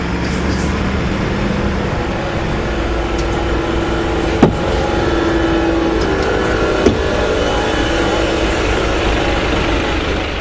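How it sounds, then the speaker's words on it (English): A Volvo B5LH Gemini 3 double-decker bus from Go-Ahead's Croydon garage rumbles steadily nearby with a low engine drone and a faint whine, two sharp clunks breaking through midway. "Next in from Go Ahead's Croydon garage was the street deck style Volvo B5LH Gemini 3, WHV 58"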